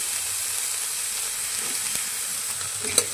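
Rattan (bet) greens frying in mustard oil in a pan give a steady, gentle hiss and sizzle, broken by an occasional light tap near the end.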